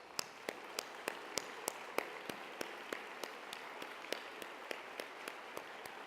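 Sparse, slow applause from an audience honoring college prep students at a school speech event, about a dozen distinct claps spaced evenly and sounding somewhat distant over a quiet room hiss.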